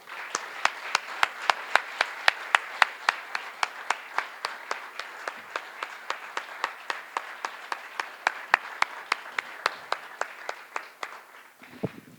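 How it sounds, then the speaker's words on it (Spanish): Steady rhythmic clapping from a lecture audience honoring venue staff, a crisp, evenly spaced beat with a broader wash of claps underneath, continuing for about twelve seconds before stopping. "les pido por favor para ellos un fuerte, fuerte aplauso"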